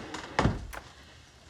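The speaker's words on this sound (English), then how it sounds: "Please close the door." An interior door swings shut in a quiet room, giving one soft, close thump with a brief knock after it, followed by low room tone.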